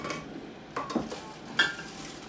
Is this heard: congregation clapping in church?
no